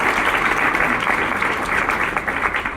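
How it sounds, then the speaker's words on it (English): Steady applause from a crowd, dense clapping throughout at a fairly loud level with no break. "Please give them a round of applause."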